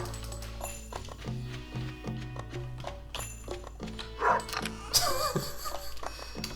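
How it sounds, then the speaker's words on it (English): A dog barking repeatedly in the farming video game Stardew Valley, short yips and barks recurring over background game music, with a person talking over it. "Man, that dog is getting annoying. Stop barking."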